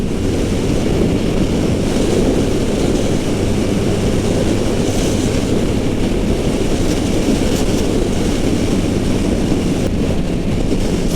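A 2022 Triumph Rocket 3R motorcycle being ridden on the road gives a constant, dense engine roar mixed with heavy wind rush, loud and close for the whole stretch with no talking.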